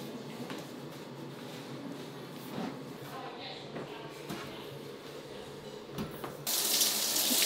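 Water streams steadily from a shower, with a few soft knocks and splashes, then the flow grows louder and harsher near the end.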